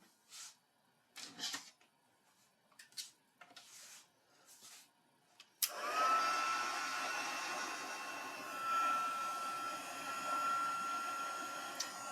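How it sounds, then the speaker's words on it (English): Heat tool blowing hot air to melt gold embossing powder on a 3D Christmas tree card, starting abruptly after quiet talk and then running as a steady, loud broadband whoosh with a faint whine for the rest of the clip. "we are going to apply some heat to it"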